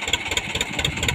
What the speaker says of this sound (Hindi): वाह, एक नंबर परफॉर्मेंस, बिल्कुल बेहतरीन लेकर जा रहा है ट्रैक्टर।